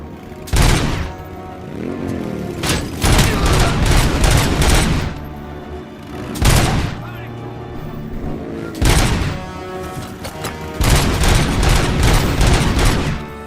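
Loud, close gunfire from the video game Robocop: Rogue City comes in several rapid volleys separated by short lulls, heavy bursts with booming low thuds and ringing tails, and no talk over it.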